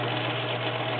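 A Viking Husqvarna Selectronic 6570 electric sewing machine runs a stretch stitch, a steady close motor hum with an even whir and no pauses throughout the short stretch.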